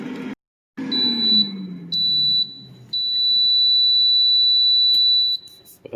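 Air fryer cooking frozen chimichangas and egg rolls beeping: a high, piercing electronic tone sounding in several bursts, the last one held for a few seconds, loud and close over faint kitchen background noise.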